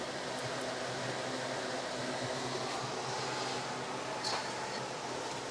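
Electric fan running steadily indoors beside a freshly repotted houseplant, a continuous broadband whir at moderate level with no talk over it.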